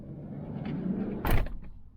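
A sliding door on a Native Campervans Class B RV slides shut with one firm thud and rattle, close by, over low rumbling background noise.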